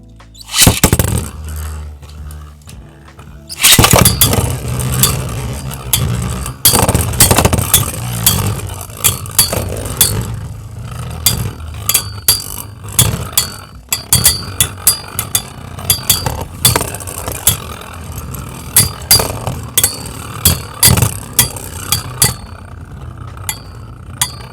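Two Beyblades, Kerbex and Flame Bixis (stamina types, one on a 230 WD combo), clash in a plastic stadium with a dense stream of sharp clinks and metallic taps over a steady spinning whir, loud and close throughout.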